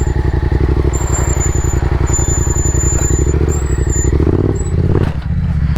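A Yamaha FZ07 stunt motorcycle circles steadily, its engine holding a loud, continuous throbbing idle-to-low rev with a brief dip near the end, close to the microphone.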